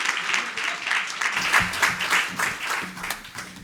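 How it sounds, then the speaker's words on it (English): Audience applause after a keynote address, a dense wash of clapping from a sizable crowd that swells and pulses across several seconds, with some voices mixed in. "Can we give her a round of applause?"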